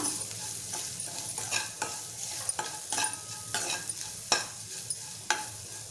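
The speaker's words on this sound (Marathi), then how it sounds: "अर्धा चमचा आपला मालवणी मसाला छान मिक्स करूया" Bitter gourd sizzling in a pan as turmeric and Malvani masala are stirred in, with a steady fry hiss and repeated scraping, clinking spoon strokes close by.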